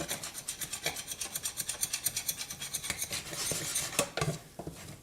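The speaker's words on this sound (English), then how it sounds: "We're now stirring our dough vigorously" Churro dough is stirred vigorously in a pan, with rapid rhythmic scraping strokes close up, steady at first, then slowing into a few heavier knocks and scrapes.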